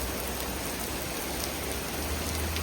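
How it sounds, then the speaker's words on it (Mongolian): Steady rain falls throughout, a dense, even wash of drops with no pauses, close and moderately loud, with no voices over it. "Оо бүр амар бороо ороод."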